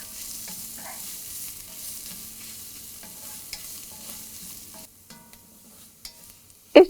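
Onions, garlic, green chilies and curry leaves sauté for mushroom masala, giving a soft steady sizzle with occasional faint stirring ticks, then a brief quieter stretch and a sharp clatter near the end.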